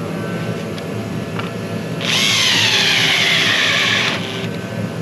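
A power drill drives screws in during slate-heart preparation with a Schieferdino Plus machine, a single loud high whine lasting about two seconds over a steady background hum, close by.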